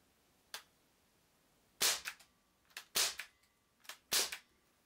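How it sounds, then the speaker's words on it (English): A Gamo MP9 air pistol fires three rounds: sharp, close pops, each followed by a short rattling tail, with a fainter click before the first shot and a long pause between it and the next. "And there we have first three rounds fired."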